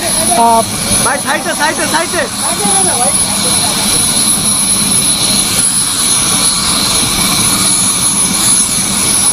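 A loud, steady helicopter engine roar fills the scene, with excited voices talking over it at the start.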